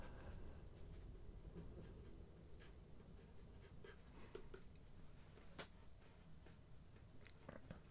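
Soft side of a pencil shading a portrait drawing on paper, a faint steady scratchy rasp with occasional brief stroke accents, quiet and close with no talk.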